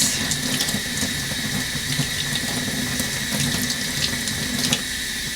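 Steady tap water runs continuously into a sink while cut tulip stems are rinsed, a constant close splashing flow with faint handling noises and no talk.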